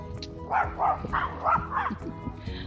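A small Chihuahua puppy yaps in a quick run of about five barks, close and fairly loud, then trails off into softer whimpering sounds.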